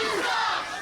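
A wrestling crowd at a women's championship match roars and chants in support of Maggie Lee, a sustained, loud wall of voices.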